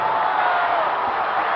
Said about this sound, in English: this crowd are going mad